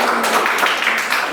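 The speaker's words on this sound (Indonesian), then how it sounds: "Kita beri tepuk tangan yang meriah" Classroom applause for a student group after their presentation, a brief, loud patter of clapping from a small group close by.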